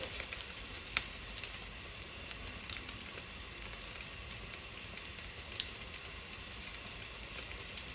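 Egg frying in a pan with pumpkin shoots, a steady close sizzle with a dense crackling hiss throughout and a few sharp pops, without any talking.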